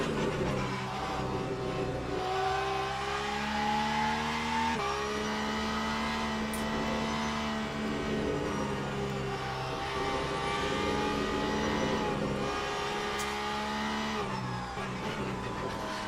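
A race car in the Le Mans Ultimate sim racing game slides through a turn and accelerates, its engine droning loud and steady with rising and falling pitch, a brief shift partway through, no voices.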